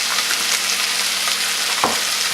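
A vegetable mix sizzles while frying in a pan, a loud, continuous hiss with a brief stirring scrape near the end and no talking.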